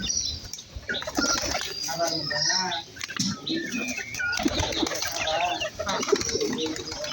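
A flock of pigeons feeds close by, cooing and fluttering their wings in bursts over a busy, uneven background of nearby activity.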